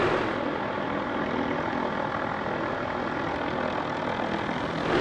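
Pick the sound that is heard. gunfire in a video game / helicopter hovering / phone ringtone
helicopter hovering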